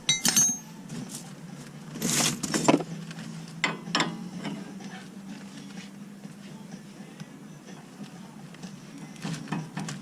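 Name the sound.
tightening tie rod jam nut on Dodge 2500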